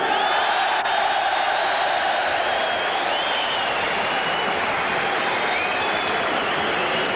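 A dense boxing arena crowd roars and cheers continuously before the Frank Bruno vs Walter Santemore heavyweight fight, a broad wash of voices and applause with whoops and whistles poking through, loud and sustained.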